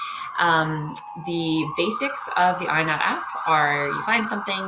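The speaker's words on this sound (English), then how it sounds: "apologies for the sirens in my background." Emergency vehicle sirens wail faintly in the background, their rising and falling tone running under a person speaking steadily in the foreground.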